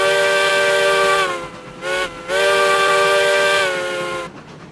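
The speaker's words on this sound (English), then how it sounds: "Do like that whistle" A Baldwin Ruby Basin steam locomotive whistle in the game RailRoads Online blows loud and chime-like in two long blasts split by a brief break, with steam hiss trailing off at the end.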